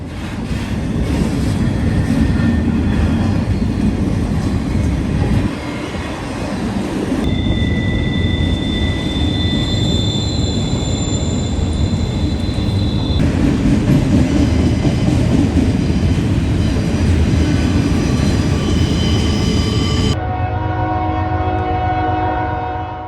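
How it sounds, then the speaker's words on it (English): A CSX intermodal freight train rolls south through Troy, its loud continuous rumble and wheel noise dominating while the locomotive horn sounds in sustained blasts near the start and middle. "CSX Intermodal I-141 heads south at Troy."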